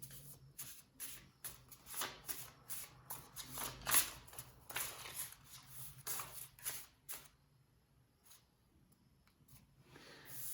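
A deck of cards shuffled continuously at close range, quick papery riffles and flicks running for several seconds before tapering off, quiet with no talk.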